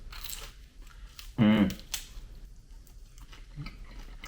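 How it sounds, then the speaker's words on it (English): One loud, close crunch as someone bites into crispy air-fried salmon skin, followed by faint chewing, with a brief spoken word nearby. "You got a nice crunchy skin."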